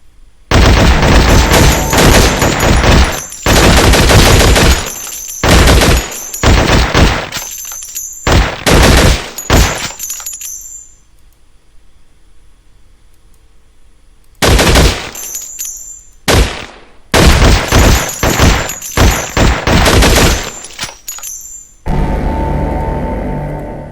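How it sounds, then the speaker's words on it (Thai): Rapid bursts of loud gunfire from weapons in the zombie video game Infectonator: Survivors, clustered volleys with a quiet gap in the middle before firing resumes. "เกมนี้นะครับปืนยิ่งแรงยิ่งเสียงดัง ยิ่งดึงดูดซอมบี้"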